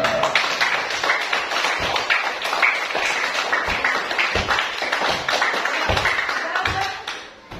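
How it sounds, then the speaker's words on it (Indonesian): A group, apparently children in a classroom, clap their hands in quick, uneven bursts, close and fairly loud, tapering off near the end. "Ayo, tepuk tangan."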